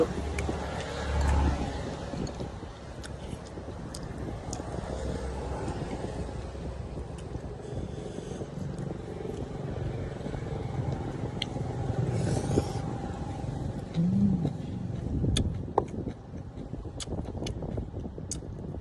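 Steady road traffic noise with cars passing along a roadside, a continuous broadband rumble with wind buffeting the microphone and occasional louder swells, heard throughout without clear speech.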